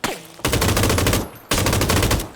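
Loud automatic gunfire from PlayerUnknown's Battlegrounds, heard in two long rapid bursts split by a short pause.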